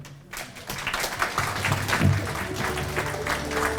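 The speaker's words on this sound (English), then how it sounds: "How about a big round of applause one more time?" An audience at a media awards ceremony breaks into applause. The clapping is dense and sustained, fairly close and loud, with no talk over it.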